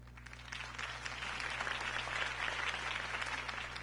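Crowd applause in a Batman Telltale video game, a steady wash of many hands clapping that swells slightly and holds at an even, moderate level over a low constant background hum.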